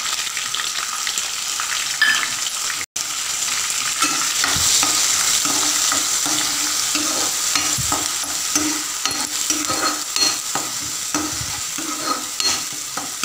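Onion paste fries in ghee for a mushroom curry, a loud continuous sizzle under repeated rhythmic scraping strokes of a spoon stirring the pan throughout.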